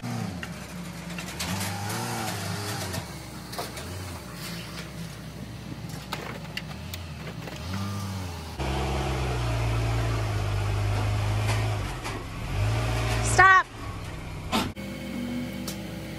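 A Honda Accord being backed up and loaded onto a car transport truck, its engine idling and revving in uneven surges close by, with mechanical whines and a sharp rising squeal near the end.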